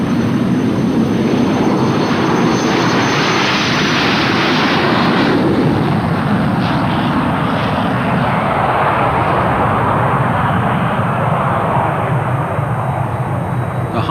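An English Electric Canberra jet bomber flying, a loud, continuous roaring rush of engine noise that holds steady for the whole stretch without any voices.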